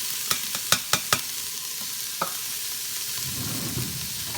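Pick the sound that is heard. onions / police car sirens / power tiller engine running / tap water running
onions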